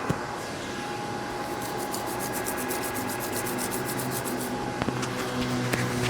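Steady soft rubbing and scrubbing of a clay bar across car paint, continuous and close, with a constant background hum from a pump and a few faint clicks near the end.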